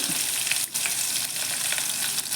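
Mustard seeds, cumin, chana dal and green chili fry in hot oil, making a loud, dense, continuous sizzle with crackling pops throughout.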